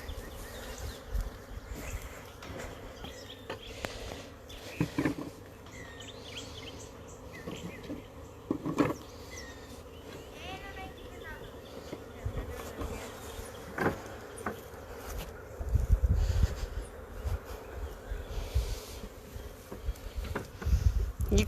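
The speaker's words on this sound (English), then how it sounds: "You can hear them buzzing." Swarming honey bees buzz as a continuous low drone with individual insects passing close to the microphone, over outdoor background noise.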